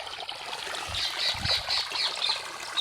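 Early-morning irrigation water trickles and gurgles into a farm plot, a soft steady flow close by, with faint bird calls chirping above it.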